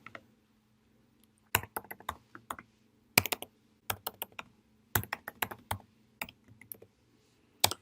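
Keystrokes on a computer keyboard while entering a search keyword into a Chrome browser, delivered in short irregular bursts of crisp clicks separated by brief pauses, close and clear over a quiet room with a faint low hum.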